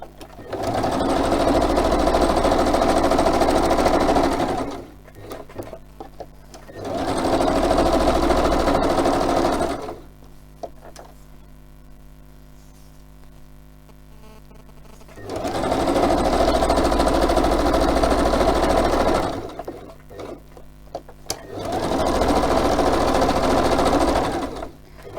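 Sewing machine stitching around pages glued on for a paper craft project, running in four loud steady bursts of several seconds each, separated by quieter pauses.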